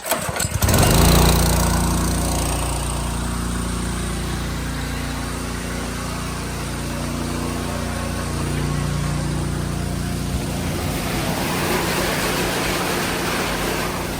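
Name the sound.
water pump engine starting and running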